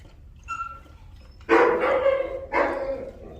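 A dog growls and barks at another dog while being introduced to other dogs. Two loud, close, snarling bursts of about a second each follow a quiet lead-in.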